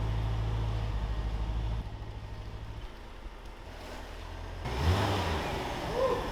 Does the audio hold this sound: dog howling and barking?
no